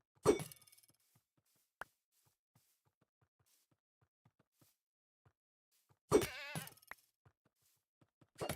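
A goat in the video game Terrafirmacraft gives two short bleats about six seconds apart, with faint clicks and taps in the quiet gap between them.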